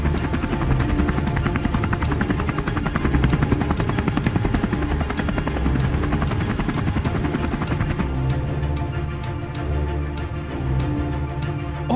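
A cartoon helicopter sound effect for a landing gives a loud, continuous rotor thrum with a rapid chopping pulse that runs steadily throughout, shifting slightly in tone partway through, with no talk.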